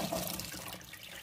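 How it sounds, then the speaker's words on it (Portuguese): Cooking water from pressure-cooked chickpeas pours off as they are drained, a steady close splashing rush of liquid through a sieve, easing slightly toward the end. "E agora é o momento de escorrer essa água."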